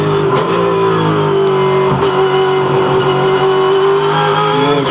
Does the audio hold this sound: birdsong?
no